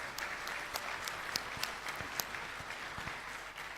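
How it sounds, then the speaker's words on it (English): Audience applause at the 2018 Perodua Myvi world premiere car launch, a steady wash of clapping with a few sharper individual claps standing out, fairly distant and continuous throughout. "Let's give him a round of applause."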